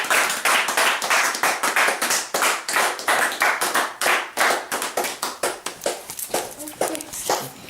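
A congregation claps in steady, rhythmic unison at a church service, the sharp claps loud and continuous throughout with voices mixed beneath.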